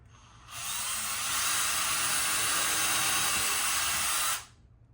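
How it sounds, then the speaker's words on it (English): A power drill making pilot holes in window trim whines up to speed and runs steadily at high pitch for about four seconds, then winds down, loud and close. "So just drill a little bit, make some pilot holes in there."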